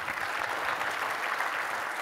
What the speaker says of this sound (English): I think we all owe a round of applause to Jonathan and the OpenStack Foundation.